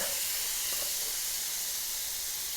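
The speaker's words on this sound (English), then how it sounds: "pick them up out of the dressing and add them to the fry pan" Marinated mushrooms lifted from their dressing hiss and sizzle in a fry pan, a steady, fairly quiet frying rush that holds evenly throughout with no voices.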